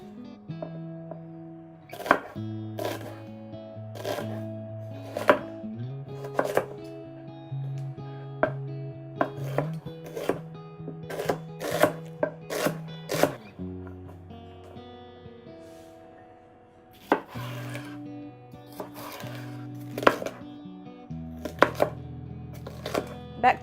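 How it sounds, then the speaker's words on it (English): Celery sticks, carrot and onion chopped finely with a knife on a board, a long run of crisp irregular chops, close and fairly quiet, over soft background music with no talking. "I'm going to chop it up real fine."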